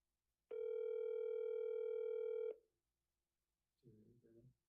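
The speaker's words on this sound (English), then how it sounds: "Come on, answer the phone. Answer the phone." A single steady telephone tone rings for about two seconds while calling a client, loud and clean, then stops; after a short silence a brief murmur of voices follows.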